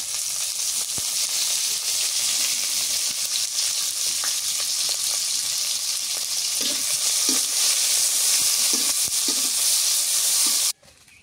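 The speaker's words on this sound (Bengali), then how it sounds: "এই যে কাঁচামরিচ করে ভেজে দিই তেলে" Green chillies and garlic fry in hot oil with a loud, steady hiss and sizzle and scattered pops and crackles close up, then cut off abruptly at the very end.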